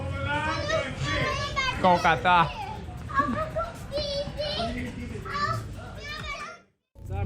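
Children chatter and play around a dinner table where adults eat and drink wine, with steady overlapping young voices and adult talk close by, then a brief silence near the end.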